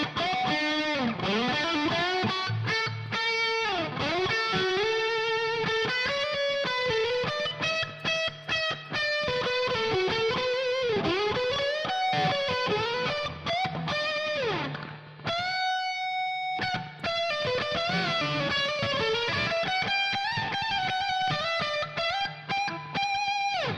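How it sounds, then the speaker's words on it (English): Electric guitar run through a Flamma FX10 portable headphone amp with plate reverb, played continuously with a distorted, sustained tone, dense chords and melodic lines, one short gap near the middle. "you can put some different reverb on that. It doesn't have to be spring,"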